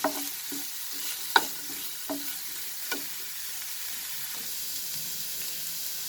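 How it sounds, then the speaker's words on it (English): Vegetables fry in hot oil over a high flame for fried rice, a continuous bright sizzle with a few sharp clinks and scrapes of stirring, close and clear with no voices. "we will cook this for 2 minutes in this oil"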